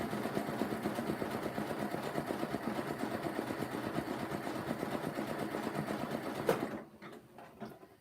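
A sewing machine double-stitches a rope basket in one continuous close rattling run, then stops abruptly, leaving faint handling noises.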